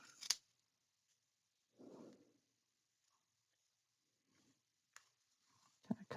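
Scissors snip through paper and card while a 9x9 magic photo album is trimmed, a few short, crisp cuts spaced apart amid near silence with faint handling rustles.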